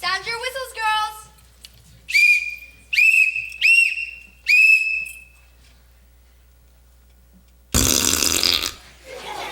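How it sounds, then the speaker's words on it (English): Police whistles blown in a children's drama, several short sharp shrill blasts in a row, loud and close, following a brief voice and ending with a burst of noisy commotion. "Sound your whistles, girls."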